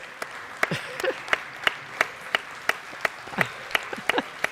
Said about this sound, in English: let's give them a round of applause for getting you through this year